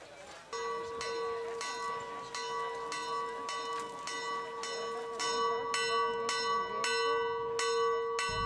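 A church bell rings repeatedly at a Greek village festival in Vroukounda, steady loud strokes at an even pace throughout, with crowd murmur and voices underneath.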